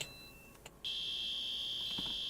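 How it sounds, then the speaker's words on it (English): A fire alarm in the Roblox game PBCC starts after a couple of faint clicks and holds a single loud, continuous high-pitched tone without a break. "if you noticed with the fire alarm, because it's got a long sound like that"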